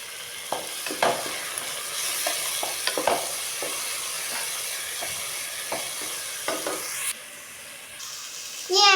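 A spoon scrapes and stirs a moist biryani mixture with lemon juice in a pot, irregular close clinks and scrapes over a steady hiss.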